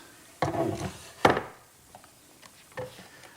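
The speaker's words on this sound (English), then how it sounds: "Now I'll slip the piece on and clamp it in place." Wooden bull nose piece slid onto a bookshelf shelf and clamped in place, with a couple of close rubbing, scraping wooden strokes followed by a few faint taps and knocks.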